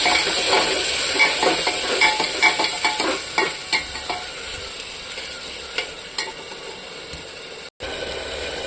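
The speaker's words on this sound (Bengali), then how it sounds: "আমি এখানে মশলাটা করে রেখেছিলাম, এটা দিয়ে দেবো। কিছুক্ষণ ভাজবো।" Spice masala being stir-fried with onions in a pan for chicken, a steady sizzle with a regular rhythm of spatula scrapes, loud and close, cut by a brief drop near the end.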